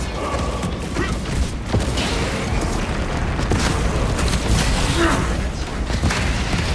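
A trap grenade goes off amid combat in Warhammer 40,000: Space Marine 2, with dense booms and mechanical clatter layered over constant gunfire and battle noise, loud and continuous.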